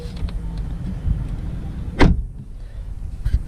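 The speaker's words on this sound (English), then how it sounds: "It's got a nice solid thud." A single solid thud as the door of a 2019 Mercedes-Benz A-Class shuts, close and short, over a low background rumble.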